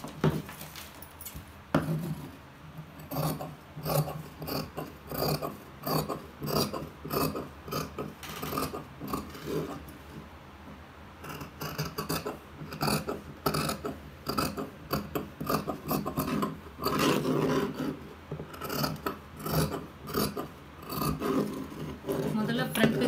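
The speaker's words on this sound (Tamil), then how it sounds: "இப்போ இதை கட் பண்ணி எடுத்துக்கலாம்." Scissors slice through silk fabric for a pattu pavadai skirt in a home tailoring setting, giving a run of close rasping snips and rustles in irregular bursts.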